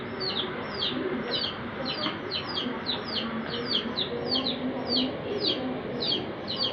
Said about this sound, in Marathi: कोंबडीची पिल्लू वरत आहे ना.